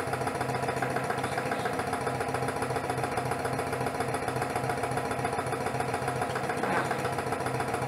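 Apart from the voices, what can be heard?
Lanaform suction skin massager pulsing at maximum speed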